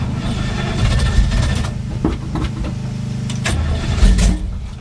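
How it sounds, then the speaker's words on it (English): An old 1966 car engine, with no choke hooked up, gets a cold start on a warm day: a loud, close, rough rumbling engine note that runs throughout with a few sharper surges. "Maybe we'll do a cold start on a hot day."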